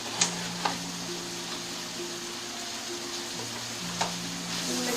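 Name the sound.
sizzling flour being stirred in a pan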